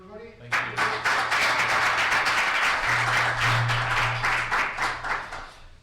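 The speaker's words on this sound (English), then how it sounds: "round of applause, everybody" Audience applause at an embassy reception following a cello performance, steady clapping from a room of people that swells and holds for several seconds before fading.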